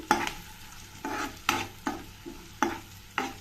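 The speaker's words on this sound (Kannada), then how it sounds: "ಒಂದು ಸ್ಪೂನಷ್ಟು ಶುಂಠಿ ಬೆಳ್ಳುಳ್ಳಿ ಪೇಸ್ಟ್ನ ಸೇರಿಸ್ತಾ ಇದ್ದೀನಿ ಇದನ್ನೊಂದು ಸ್ವಲ್ಪ ಚೆನ್ನಾಗೆಲ್ಲ ಮಿಕ್ಸ್ ಮಾಡ್ಕೊಳ್ತೀನಿ" Onion with a spoonful of ginger-garlic paste being stirred in an oiled pan. Regular, close scrapes of a spoon sweep through a low sizzle, roughly one stroke every half second, with no talking.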